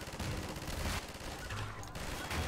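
Rapid gunfire from a mounted gun turret in Half-Life 2, a dense, loud burst of repeated shots that pauses briefly before another volley.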